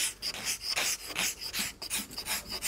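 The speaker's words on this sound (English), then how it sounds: "cross it out and scrape it right off" A hand scraper rasps across wood to remove a marking, giving repeated close, harsh scraping strokes in a quick back-and-forth rhythm with no talking.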